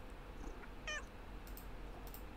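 A short, soft cat meow from the Nancy Drew: Secret of the Old Clock game, followed by faint chirpy mewing sounds over a quiet background hum, with no speech.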